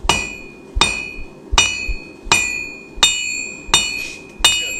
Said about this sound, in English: We're going to do that by hanging it off the edge of the anvil and doing half blows, half on, half off the anvil.